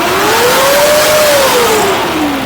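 A Toyota Vios engine revs up and then eases back down in one smooth, loud, close swell, a rising and falling whine over a rough mechanical roar.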